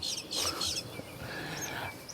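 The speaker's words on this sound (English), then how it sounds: "These birds are going crazy right now." Several birds chirp outdoors in a quick, busy burst, bright calls rising over steady background noise and fading into fainter tweets.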